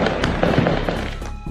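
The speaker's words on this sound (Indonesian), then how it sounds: "Suara tembakan dari senapan AK-47 tiba-tiba memberondong polisi di semua titik." Rapid, sharp cracks of AK-47 rifle gunfire in a dense automatic burst, loud and close, running almost continuously for a second and a half.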